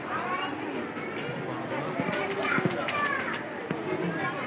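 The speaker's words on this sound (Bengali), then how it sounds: "এই মাজারে যে বুনো কবুতর ছাদের উপর আরও অসংখ্য কবুতর আছে" Feral pigeons coo softly at the Shah Jalal shrine among a busy outdoor murmur, with people's voices and footsteps mixed throughout.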